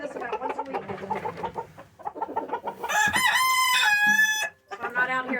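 Chickens on a Texas homestead cluck in short bursts, then a rooster lets out a loud, close crow lasting over a second, with the clucking carrying on around it.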